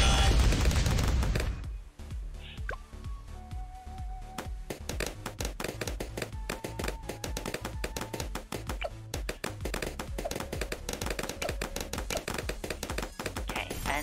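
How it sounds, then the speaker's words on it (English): Rapid gunfire and tapping pops from Quincy's Headshot ability in the tower defense video game Bloons TD6, a dense, steady stream of sharp game sound effects running loud and continuous for most of the stretch. "when this Moab is in Quincy's range, I'm going to use his ability. Headshot"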